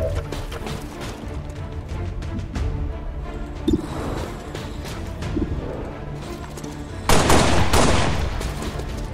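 Gunfire in the XCOM 2 video game: scattered shots ring out over a busy game soundscape, with a sharp report near the four-second mark and a louder, denser burst around seven seconds.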